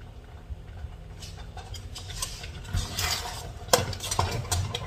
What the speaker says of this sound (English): get these grits a little stir and turn them down because they pretty much done now